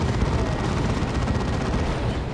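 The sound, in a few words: Assault Cannon firing in video game Warhammer 40,000: Dawn of War 2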